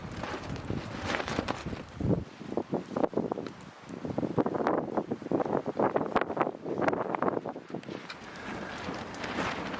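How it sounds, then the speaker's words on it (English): Wind gusting at a backcountry lakeside campsite, rough buffeting and rustling in uneven surges against the microphone, fairly faint and continuous with no talking. "really where Tilly and I are, that's blocking all our wind"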